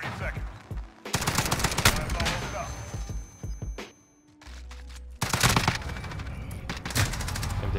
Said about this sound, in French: Il a tiré sur son pote